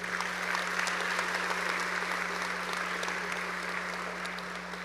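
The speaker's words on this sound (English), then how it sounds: "Another round of applause for Jennifer Raz" Audience applause at a high school graduation ceremony, a dense, steady wash of many hands clapping at moderate distance, continuing evenly for the whole stretch with a constant low hum underneath.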